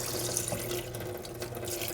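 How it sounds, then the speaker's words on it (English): Water from a cup poured into a pot while cooking Top Ramen noodles for a casserole, a soft, quiet, steady trickling stream with no talking. "I'm not going to pour the whole cup"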